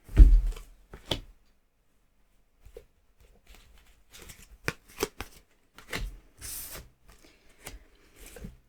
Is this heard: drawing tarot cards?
yes